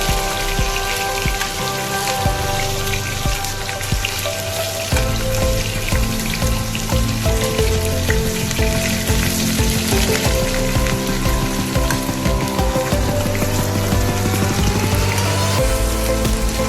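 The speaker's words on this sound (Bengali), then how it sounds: "এর মধ্যে আমি পেঁয়াজ কুচনোটা ফোড়নে দিয়ে দিচ্ছি" Chopped onion goes into hot oil as a tempering for posto, giving a loud, continuous crackling sizzle that flares up with a few shifts as it is stirred.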